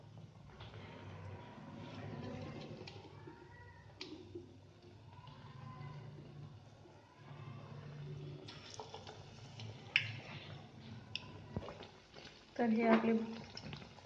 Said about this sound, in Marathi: जे बटाटे मी बेसनमध्ये भिजू घातलं आहे हे त्याचे तेलात सोडायचं आहे